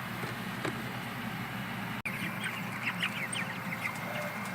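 Farmyard birds at feeding time, with a steady clucking and chattering flock close by, some duck-like quacks, and a short sharp click partway through.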